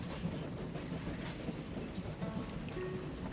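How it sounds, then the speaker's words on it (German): A train rolls through a railway level in the puzzle game Train Valley, giving a steady clickety-clack rumble of carriages on track, with faint squealing tones near the end and no voices. "ich muss jetzt nur den Zug reinfahren lassen"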